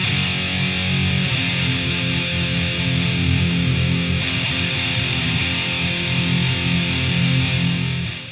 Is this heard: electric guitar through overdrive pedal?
yes